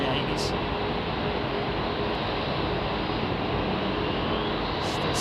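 Jet airliners roaring on departure from London Heathrow Airport, including two Airbus A380s on the runway, a loud continuous broadband rumble filling the whole stretch with no break.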